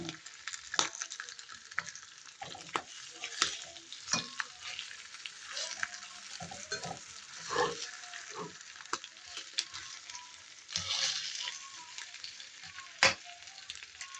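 Garlic frying in a pan for a pork chop steak, a steady bright sizzle with crackles and the scrape of stirring, close by, with no talk.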